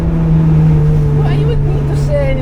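A Honda Integra Type R with a K24 engine and K20 crank runs on a race track, a loud steady engine drone held at near-constant pitch with a faint rising tone late on.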